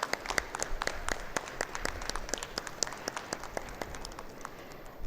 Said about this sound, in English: Let's have a huge round of applause, everybody.